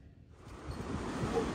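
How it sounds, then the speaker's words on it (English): Strong gusty wind buffets the microphone outdoors at a yard sale, a loud continuous low rumble and roar that swells after a quiet start and keeps blowing without letup. "excuse the wind, it is terribly windy outside."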